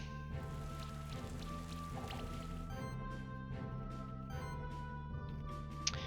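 The Acid Rain attack effect in the Monster Sanctuary video game hisses and patters as a soft, continuous drizzle of dripping sounds under sustained background music, faint and steady throughout.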